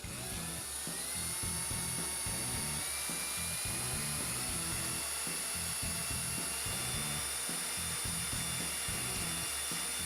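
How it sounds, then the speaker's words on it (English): A high-pitched drill whines continuously for about ten seconds, with a pulsing low grind underneath as it bores through material; no talking. "All I'm going to have to do is drill one other hole then"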